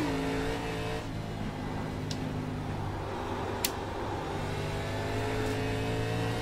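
Race car engine from an ARCA stock car on the Lime Rock circuit in iRacing, a steady sustained drone with shifting harmonic pitch as the throttle eases and builds, loud and close throughout with no talking.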